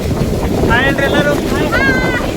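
Strong wind roaring and buffeting the microphone outdoors on a trip to Kudremukh, steady and loud throughout, with faint voices talking underneath.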